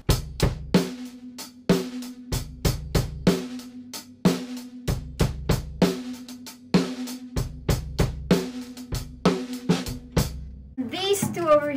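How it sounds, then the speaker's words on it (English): A drum set beat with a closed hi-hat keeping crisp, tight ticks over punchy kick and snare hits in an even rhythm. A voice speaks briefly at the very end. "Or the closed hi-hat, which sounds like this."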